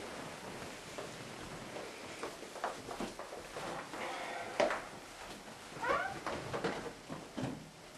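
A cat meows several times at close range in a quiet home, short plaintive calls over faint rustling and shuffling.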